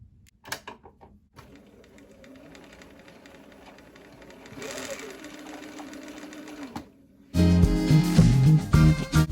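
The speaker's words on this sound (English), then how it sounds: "on your sewing machine, make a little triangle stitch" A sewing machine stitches a triangular dart in fabric, running steadily through most of the stretch under a murmuring voice, before loud music abruptly takes over near the end.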